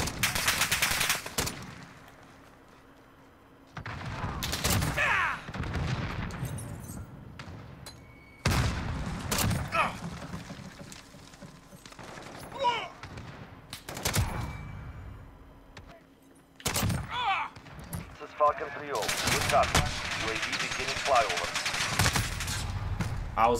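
Dragunov sniper rifle shots in a video game, several loud cracking bursts spaced a few seconds apart, each with a booming tail, mixed with game sounds and someone talking between shots.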